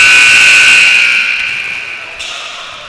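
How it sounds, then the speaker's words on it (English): A loud, harsh electronic buzzer signalling the start of a basketball game blares continuously, then fades slightly toward the end amid faint crowd noise. "the buzzer, so the game is about to begin"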